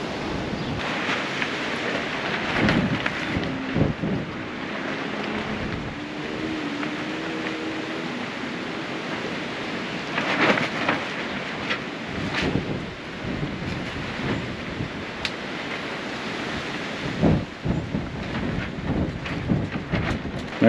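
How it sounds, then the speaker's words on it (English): Strong wind gusts buffet the microphone beside an RV, a steady, heavy roar that swells and surges in bursts throughout, with no talking. "I think the wind's kind of coming from behind me right now."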